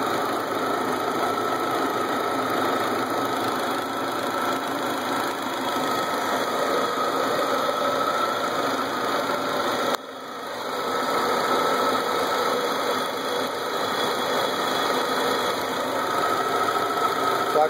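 An Audi V8 engine idles steadily at close range, a continuous even rumble with a brief dip around the middle before the same smooth running resumes, no voices over it.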